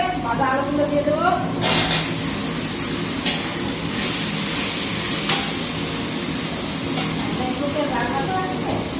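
Fried potatoes tipped into spices frying in oil for a Bengali home-cooked dish, giving a loud, steady hiss and sizzle that runs throughout, with a voice talking over it.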